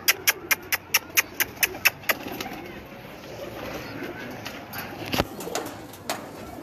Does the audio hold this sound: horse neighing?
no